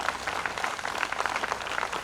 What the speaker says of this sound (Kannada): ನೀವು ಎರಡನೇ ಹುಡುಗ್ರಿ ಒಂದ್ಸಲ ಜೋರಾಗಿ ಚಪ್ಪಾಳೆ ಹೊಡಿ.